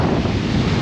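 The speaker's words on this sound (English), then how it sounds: "Yeah, the wind is making it feel very outdoorsy." Strong wind buffets the microphone outdoors during British trad climbing, a steady low roaring rumble that fills the whole moment with no break.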